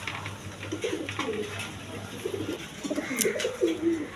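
Mookee pigeons, three birds kept for sale, coo in low rolling phrases, several soft calls nearby with a faint background hum.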